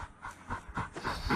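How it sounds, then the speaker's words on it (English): Heavy, rhythmic breathing from an unseen creature in the woods, a series of deep panting breaths repeating about every half second, fairly close and without any talk. "It's the sound of heavy breathing."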